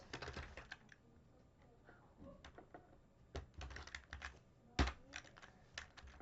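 HTML code being typed on a computer keyboard, quick irregular bursts of key clicks with brief pauses and one heavier thump, close and quiet.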